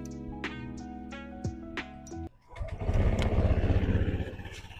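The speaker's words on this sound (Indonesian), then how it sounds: "Bentar, kita nyalain." A 2025 Honda Vario 160cc scooter engine cranks with a few sharp starter bursts, then catches and settles into a steady, smooth, fairly loud idle close by.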